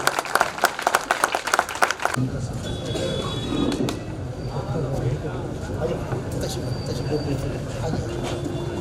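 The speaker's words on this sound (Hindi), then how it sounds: "स्वागत करना चाहते हैं जोरदार तालियों के साथ में" Loud applause greets a guest at a new office opening ceremony, starting with sharp distinct claps that merge into a dense, sustained roar of clapping from a crowd, with voices mixed in.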